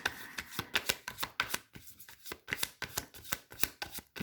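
Tarot cards shuffled and drawn close up, a quick run of crisp papery riffles and flicks in uneven bursts with a brief pause midway, with no voice over them.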